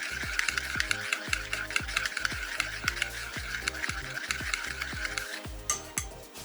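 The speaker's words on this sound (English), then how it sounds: "Mix this together until the ingredients are well combined and until the salt has dissolved" Rhythmic scraping and clinking of a utensil stirring garlic butter spread in a bowl, repeating steadily with a steady background hum and no speech.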